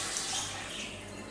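Water pours into a pot of sambar cooking with tamarind and vegetables, a steady close splashing rush lasting just over a second with no voices.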